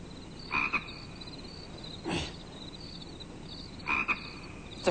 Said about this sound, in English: I guess that is a frog.